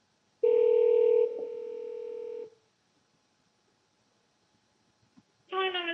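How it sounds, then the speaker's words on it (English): Gmail call ringing through a computer: one long electronic ring tone that steps down in level, then silence before a short burst of a second tone, clean and close with no talk. "Where is it ringing? It's ringing my Gmail."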